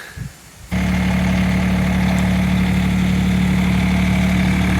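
A mini excavator's small engine starts after a brief scrape and then idles steadily with a loud, even drone and a low hum.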